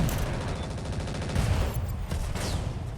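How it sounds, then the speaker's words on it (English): Rapid aircraft machine-gun fire from a mech-combat video game, a dense continuous burst of rattling shots that runs the whole time, loud and steady with engine rumble underneath and no talk. "Maximum machine guns. Let it rip."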